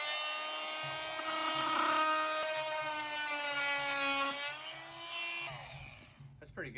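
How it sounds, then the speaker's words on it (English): A small handheld power tool whines steadily at high pitch while cutting a piece of wood trim in a shop, its tone dipping slightly under load before spinning down at the end. "To get our trim to fit here, gotta cut this piece off right here."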